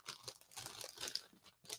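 A plastic bag crinkles and crunches while Skylanders figures and items are unpacked from a mail order, with close, irregular rustling bursts and brief pauses.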